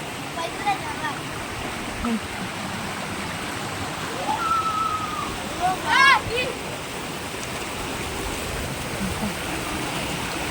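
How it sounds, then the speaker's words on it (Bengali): Steady broadband rush of water flowing over rocks near an ashram in Assam, continuous and close, with a few faint bird calls midway. "চলুন দেখুন কিরকম জলগুলো যাচ্ছে।"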